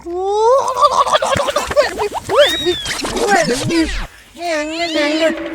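Several cats meow in quick succession, loud and close, with a longer drawn-out meow near the end and a brief pause before it; the cats are up a tree.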